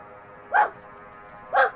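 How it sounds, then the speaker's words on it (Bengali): A dog in a Bengali horror cartoon barks twice, about a second apart, each bark short, sharp and close over a quiet background hum. "অদ্ভুতভাবে কুকুরটা লাবুবু ডলটিকে দেখে জোরে জোরে ঘেউ ঘেউ করতে লাগলো।"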